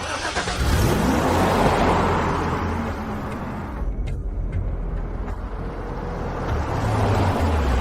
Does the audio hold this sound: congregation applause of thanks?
no